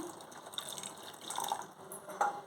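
Water poured from a cup into a pot of jaggery for making syrup: a faint, soft splashing pour lasting a couple of seconds with a few light drips, quiet and close, without speech.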